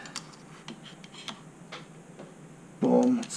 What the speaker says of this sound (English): slide this locking bolt for the rear hinge back in